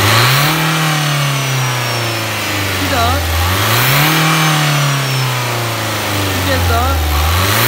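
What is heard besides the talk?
car engine revving with burst turbo pipe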